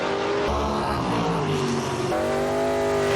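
A 1958 Chevrolet Delray gasser drag racing at a Southeast Gassers event in Maynardville, Tennessee, its engine roaring loud and close with rising harmonic revs and a sharp gear change, sustained throughout.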